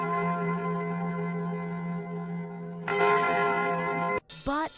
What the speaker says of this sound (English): But the bell also rang for warnings.